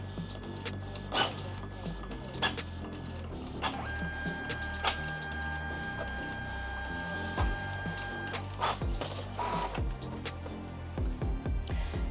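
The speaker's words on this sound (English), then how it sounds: "Now let's try scanning and printing." A Brother DCP-T426W ink tank printer scans and then prints, giving a steady mechanical whir with repeated motor clicks, clunks and paper-feed rattles, close and continuous across the clip.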